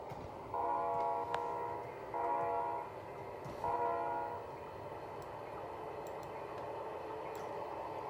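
A CSX train horn in a video game blows three times in long, evenly spaced blasts over a steady rumble, followed by continued low running noise with faint ticking.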